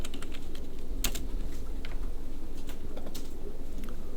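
Keystrokes on a computer keyboard as the POL command is entered and Enter is pressed, sounding as scattered light taps over a steady background hum, with no voices.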